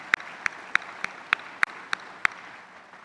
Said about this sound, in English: let's pause for a round of applause for that.